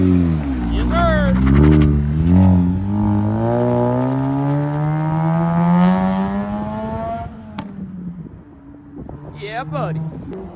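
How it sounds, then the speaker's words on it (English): A loud JDM car engine revs and drones up in pitch as it accelerates, with wind buffeting and voices talking over it. "The car sounds so good. It's super loud."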